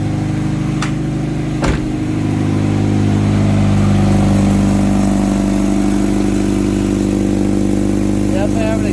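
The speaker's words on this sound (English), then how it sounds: "Definitely have an exhaust leak." A 1996 Honda CR-V engine idles with an exhaust leak, a loud, steady low rumble with a raspy, puffing edge, a couple of sharp clicks early on and the drone continuing unbroken throughout.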